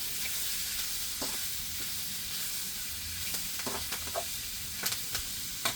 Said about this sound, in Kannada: ಇವಾಗ ಇದನ್ನು ನೀಟಾಗಿ ಫ್ರೈ ಮಾಡಂಬ್ರಿ